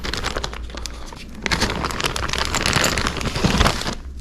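Plastic bag from an eBike kit box for a CYC X1 Pro Gen2 motor being handled nearby, a steady crinkling and rustling that swells louder in the second half, with no voices.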